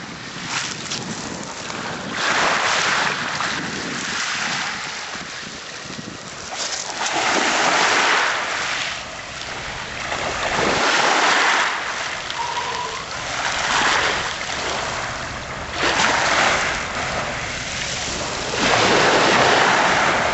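Ocean waves surge and wash onto Seaford Beach at full tide in repeated swells, with heavy wind buffeting the microphone throughout.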